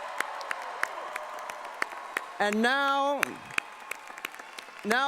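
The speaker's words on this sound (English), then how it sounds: "Let's all give them one more big round of applause." Scattered, thinning applause from the audience at the Berkeley Haas undergraduate commencement for the class of 2018, with a few sharp individual claps breaking through as a speaker talks over the tail of it.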